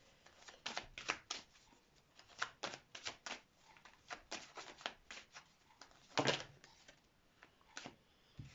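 Oracle cards being shuffled by hand, a run of crisp riffling flicks and soft slaps in uneven bursts, close and quiet, with one louder flurry near the end and no talking.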